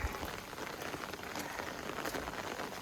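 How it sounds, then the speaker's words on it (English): Steady rain pours on the Appalachian Trail in the Roan Highlands area near Damascus, a dense, even hiss of drops hitting surfaces nearby with no voices. "the rain has let up a little bit, but"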